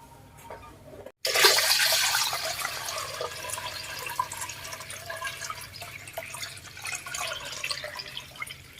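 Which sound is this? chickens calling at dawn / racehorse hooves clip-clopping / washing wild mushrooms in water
washing wild mushrooms in water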